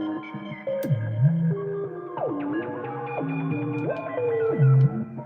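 Synthesizer tone with audio-rate frequency modulation, playing a sequence of sliding, gliding pitches with rich, buzzy harmonics, steady and fairly loud throughout with no talking.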